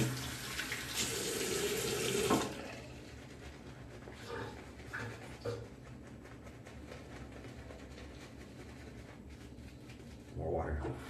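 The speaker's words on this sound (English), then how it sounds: "I need to put some water in here." Water pours steadily from a tap into a container for about two seconds, a loud broadband rush, then stops; quieter handling noises and faint clatter follow, with another brief splash of water near the end, outdoors in an Arctic setting.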